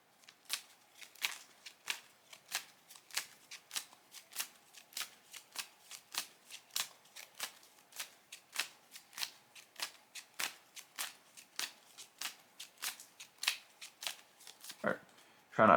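A deck of playing cards shuffled during a Yu-Gi-Oh Six Samurai card game, giving a steady run of crisp riffling flicks that repeat evenly and close up, with no voices over them.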